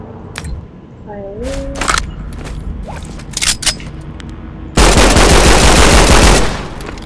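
Gunfire from a weapon in the Roblox zombie game Contact A-888, with scattered sharp mechanical clicks and creaks, then a loud sustained burst of rapid fire near the end.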